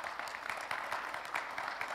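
Audience applause at a HIPMI business association event, a steady dense patter of many hands clapping through the whole stretch at moderate level, with faint voices underneath.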